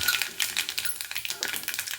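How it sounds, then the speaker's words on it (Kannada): Mustard seeds and cumin splutter in hot oil as a tempering, with sharp, irregular pops and crackles that come quickly and close by at a fairly faint level. "ಈಗ ಈ ಬಿಸಿ ಎಣ್ಣೆಗೆ ನಾನು ಒಗ್ಗರಣೆ ಹಾಕ್ಕೊಳ್ತೀನಿ. ಬನ್ನಿ, ನೋಡಿ ಸಾಸಿವೆ ಹಾಕ್ತಾಯಿದ್ದೀನಿ, ಸ್ವಲ್ಪ ಜೀರಿಗೆ ಹಾಕೋಣ."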